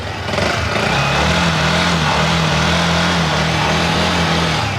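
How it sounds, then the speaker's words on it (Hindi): A Yamaha R15 V4 motorcycle engine idles steadily at close range, a continuous low rumble with a faint rising hum partway through, no voices. "साउंड सुन लेते हैं, गाड़ी को स्टार्ट कर लेते हैं, एक बार साउंड सुनिए।"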